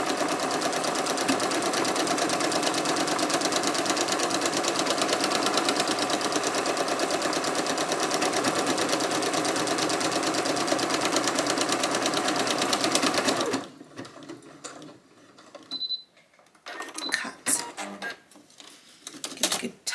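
A sewing machine stitches a Friday Pattern Co. Patina blouse, running in one loud, steady whirring stretch for about thirteen seconds before stopping abruptly, followed by quieter handling noises and faint scattered sounds.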